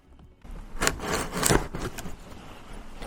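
A small knife slices through the cardboard and tape of a box holding a new Nintendo Switch OLED Zelda Tears of the Kingdom edition, with several close, crisp scraping cuts in quick succession and no talk.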